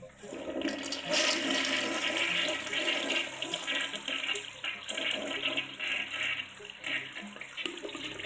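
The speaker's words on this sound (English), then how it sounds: "I watched him flush down a stick of deodorant" A toilet flushing with a loud, steady rush of close water that churns and gurgles throughout without letting up, and no one talking.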